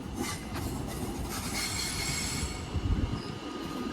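A London Northwestern Railway train at London Euston station rumbles and squeals on its wheels, a loud, close, continuous rolling noise with metallic screeching and no talk over it.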